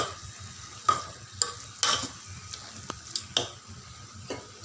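A spoon stirs chilli powder into a broad bean and tomato curry in a pan with soft scraping strokes and occasional sharp clinks over a faint background sizzle, close and fairly quiet.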